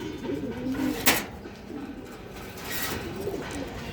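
Damascene pigeons at a pigeon farm coo softly and repeatedly against faint background noise, with a sharp click about a second in.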